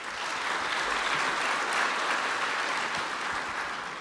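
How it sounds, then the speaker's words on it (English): Steady, dense applause from a conference audience after a lightning talk, a continuous wash of many hands clapping at even loudness throughout with no voices over it. "Big round of applause for Andy, please."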